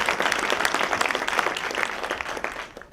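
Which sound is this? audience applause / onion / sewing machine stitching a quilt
audience applause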